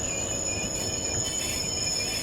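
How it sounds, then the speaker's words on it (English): Wheels of a Class 66 freight train squeal in the Train Sim World 3 game, a steady high-pitched metallic squeak over continuous rolling rail rumble, close and constant with no talking. "So there it goes, squeaking away."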